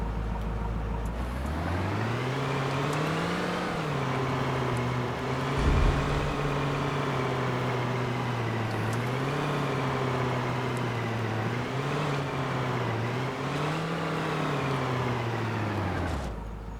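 A car driven in the video game Defiance, its engine a continuous loud hum that rises and falls in pitch with repeated throttle changes over a long stretch, without any talking.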